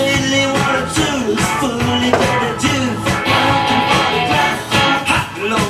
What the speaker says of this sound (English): nothing beats the Clash's London Calling when you're building model planes